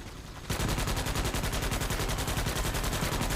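Rapid automatic gunfire from a weapon with a 54-round magazine in a shooter video game, a loud sustained stream of evenly spaced shots that starts abruptly and continues without a break.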